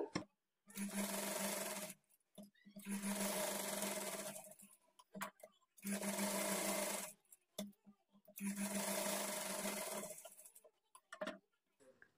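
Sewing machine stitching a blouse, running in three long steady bursts of whirring with short pauses between, close and fairly quiet, no talk.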